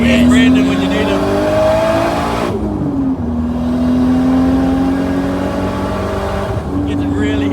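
A Nissan S15 Silvia widebody with an RB25DET turbo engine revving and shifting while driving, with loud droning engine tones and turbo wastegate chatter; people talk over it.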